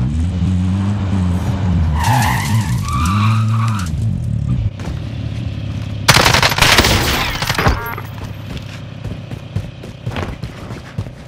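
A vehicle driven in Call of Duty Warzone Pacific, with loud engine revving that climbs and falls, then a burst of harsh skidding and tire squeal, followed by rumbling motion and scattered gunfire in the distance.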